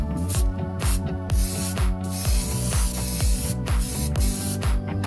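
A spray paint can sprays black paint onto a canvas in a series of loud, close hissing bursts, several in a row with short pauses between them, over a steady background tone, with no talking.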